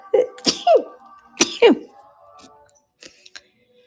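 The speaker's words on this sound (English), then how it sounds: "Well, I'm going to sneeze." Two sharp, explosive bursts close by, like sneezes, followed by a few quieter clicks and breaths.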